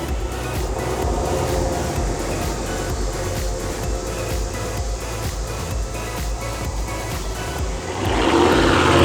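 A Dodge Charger fitted with Cerakote black exhaust tips gives off a deep, steady, loud exhaust rumble that swells louder near the end, with no voices over it.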